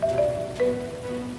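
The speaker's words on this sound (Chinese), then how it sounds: "下雨了" Rain falls as a steady soft hiss throughout a brief moment of a Chinese drama scene, with a faint sustained tone running underneath.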